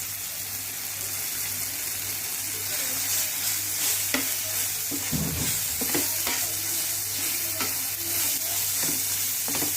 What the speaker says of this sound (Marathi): तर आता कांदा आणि टोमॅटो याच्यामध्ये छान फ्राय झालेले आहे